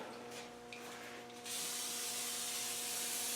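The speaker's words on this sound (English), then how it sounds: "give it a general spray" Aerosol rustproofing spray applied under the bonnet of a Land Rover 130, a steady close hiss that starts after a few quiet handling sounds and continues evenly to the end.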